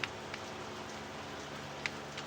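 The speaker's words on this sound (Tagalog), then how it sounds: "Raining in Laguna." Steady rain falls in Laguna, a soft, even hiss of drops hitting a surface with a few faint ticks, fairly quiet and with no voices.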